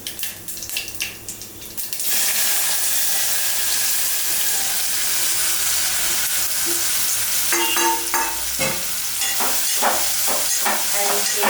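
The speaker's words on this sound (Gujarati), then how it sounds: "એક ચમચી જીરું એડ કરશું હિંગ એડ કરી દઈશું ત્યારબાદ આપણે આ ભીંડો સમારે એડ કરી દઈશું" Chopped okra tipped into hot oil with cumin and asafoetida in a pan, a sudden loud sizzle that stays strong and steady, followed by clattering scrapes of a spoon stirring near the end, close by with no talk.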